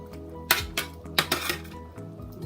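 Part-cooked meatballs tipped from a dish into a pan of sauce, making two sharp clinks of crockery against the pan with softer knocks and thuds after each, close and clear with no talking.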